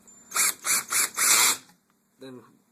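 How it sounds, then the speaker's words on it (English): A power drill on low torque drives screws back into the casing of an LG LCD TV during repair, four short whirring bursts close by, the last one longer, followed by a faint brief clatter. "I'm going to use a power drill to put them back in."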